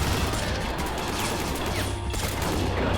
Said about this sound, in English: There's just bullets coming out of the brush.